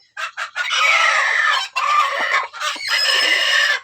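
Free-range village hens clucking inside a coop, several loud, close cackling calls in quick bursts with short gaps between them.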